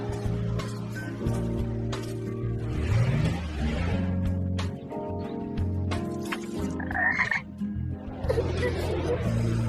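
Cartoon frog croaks from the Turning Mecard animated series, repeated guttural croaking layered over music and effects throughout.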